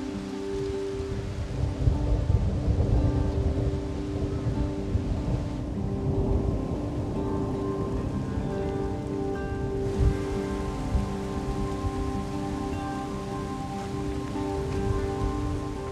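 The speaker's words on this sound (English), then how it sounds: "Experiencing thunderstorms during a desert winter is especially rare and beautiful." Steady rain from a desert winter thunderstorm pours onto the ground in a constant hiss, with a low rumble of thunder beneath it.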